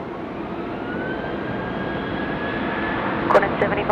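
A Qantas airliner takes off from runway 16 right at Sydney Airport, a steady distant jet roar with a thin rising whine that builds slightly toward the end, where a brief voice cuts in.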